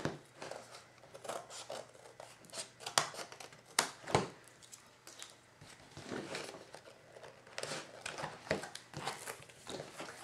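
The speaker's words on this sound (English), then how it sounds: "just take your scissors and snip it right off again" Scissors snip through paper in a series of short, crisp cuts at an uneven pace, close by and fairly quiet, with faint paper rustling.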